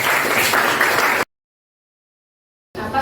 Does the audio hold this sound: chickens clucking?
no